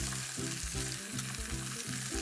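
Red wine sauce with bay leaves, rosemary and garlic simmering around lamb loin chops in a pan, giving a steady, moderately loud sizzle and bubble with faint scraping, no voices.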